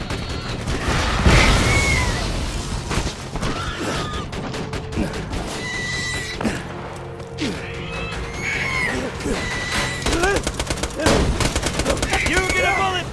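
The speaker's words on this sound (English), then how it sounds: "You get a bullet, and you get a bullet! Everybody gets a bullet!" Rapid gunfire from Borderlands 2 crackles almost nonstop, with dense bursts of shots layered over game effects and music, loud and continuous for the whole stretch.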